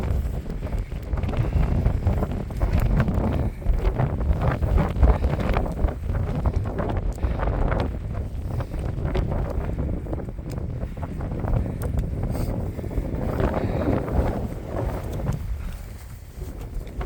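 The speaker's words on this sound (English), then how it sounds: "As you can hear, the wind's getting stronger." Strong gusts buffet an outdoor microphone with a loud, continuous low roar that swells and eases in waves, with no talking heard.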